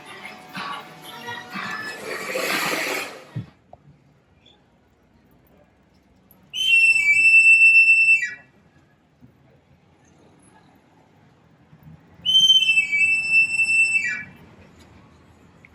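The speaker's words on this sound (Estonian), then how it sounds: "Käib mööda tänavat ja mängib vile, puhub niimoodi. Ta kutsub papagoisid." A man walking along a street in Spain blows a whistle to call parrots, giving two loud, sustained whistle calls a few seconds apart, each descending slightly at the end, after some background noise.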